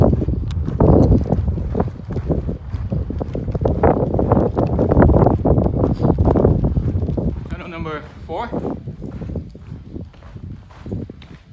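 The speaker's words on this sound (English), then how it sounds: "it is windy" Strong gusting wind buffets the microphone throughout on a hike to Goat Canyon Trestle, a constant low roar with rising and falling surges.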